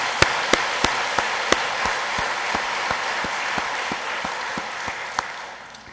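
A church congregation at a year-end Sunday service applauds together, with sustained, dense clapping filling the room and a few sharper claps standing out before the applause tapers off at the end.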